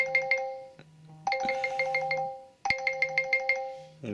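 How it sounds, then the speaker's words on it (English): A Google Pixel 6a alarm ringtone rising in volume, its bright chiming melody repeating in short bursts over a low buzzing pulse, close and clear with no voices. "It's gradually getting louder."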